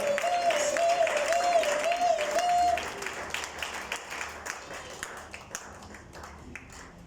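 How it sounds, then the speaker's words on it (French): A church congregation at an evening worship gathering claps and cheers, a sustained voice singing over the opening, then the clapping thins into scattered fading taps. "Acclamons pour la gloire du Seigneur."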